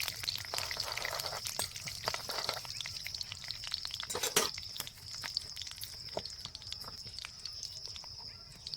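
Cinnamon and dry red chillies fry in hot oil as a tempering, making a steady, quiet crackle with scattered sharp pops and spits throughout.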